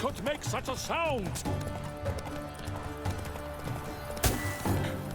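Horse hooves clip-clop in The Witcher 3 game, with a loud neigh near the start and a sharp thud later, all layered under game music and ambience.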